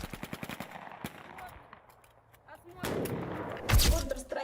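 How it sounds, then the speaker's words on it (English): Machine gun fire from Russian military women in action: rapid bursts of close, sharp shots at the start, then a lull and heavier, louder volleys toward the end. "He sure knows how to shoot."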